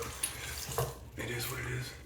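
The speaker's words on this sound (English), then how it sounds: "I should have filled up the sink prior to starting this" Water from a tap runs steadily into a bathroom sink and fills it. It makes a soft, continuous splashing hiss, with a few faint clinks and light background voice.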